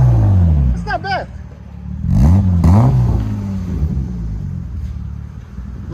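A 1995 BMW 325i inline-six with a stainless DC Sport muffler revs up in a few throaty bursts and then settles back to a deep, rumbling idle, heard close and loud.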